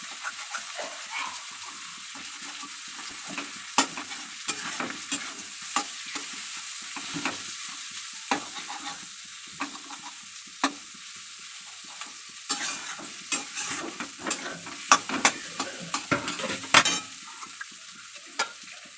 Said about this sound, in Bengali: এবার মাছের ডিমটা দিয়ে ভালো করে নাড়াচাড়া করে নেব। কেটেও দেবো খুন্তি দিয়ে ডিমটাকে।